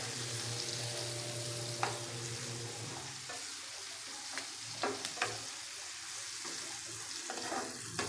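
Onions frying in oil in a pan over a low gas flame, a soft steady sizzle with a few light clinks and a faint hum beneath, quiet and close.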